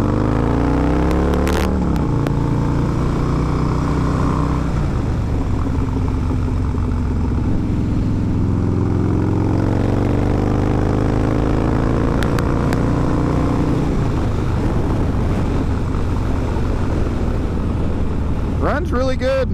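A 2017 Harley-Davidson Breakout ProStreet motorcycle engine runs steadily through a ride, a loud low rumble with gear changes and rising and falling revs under heavy wind noise.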